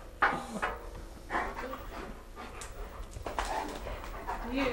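Two puppies left shut in a house for about fourteen hours whimper and pant nearby in short, repeated bursts, with faint household knocks and muffled voices in the background.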